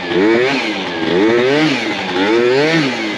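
Yamaha Zuma 70cc scooter engine running slightly lean, a close, loud buzzing idle that wavers and surges in uneven rhythmic swells of revving.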